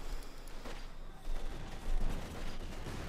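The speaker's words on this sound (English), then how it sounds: "A lot of rifle grenades at the church Panther 4 fire as well, doing some heavy damage to the machine gunners" Battle sounds from Company of Heroes 2: a fairly quiet, continuous rattle of rifle grenades and Panther tank gunfire, with scattered bursts and blasts rolling together in the distance.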